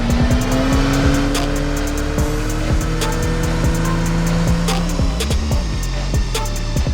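Tuned car on a dyno test bench running on 102-octane fuel, its engine droning loudly and climbing steadily in pitch, with sharp ticking and clicking cutting through the roar.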